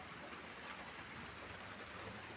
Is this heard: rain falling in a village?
yes